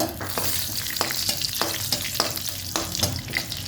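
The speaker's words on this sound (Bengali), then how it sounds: "এই যে কালি জিরাটা ফোড়ন দিয়ে দেব আর সাথে কয়েকটা শুকনো লঙ্কা" Nigella seeds and a few dried red chilies sizzle in a little hot oil, a steady close crackle with sharp pops and scraping stirs recurring throughout.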